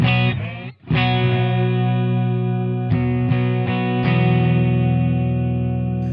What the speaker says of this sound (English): Just a little bit of a warble in the background.